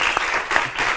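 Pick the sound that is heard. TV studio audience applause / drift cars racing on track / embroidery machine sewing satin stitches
TV studio audience applause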